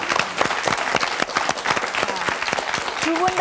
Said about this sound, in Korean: 옆에서 뭐해 박수도 좀